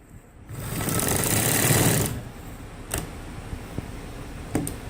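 A sewing machine stitches a gents' shalwar poncha in one loud whirring run of about a second and a half, then stops, leaving faint clicks and handling noise nearby.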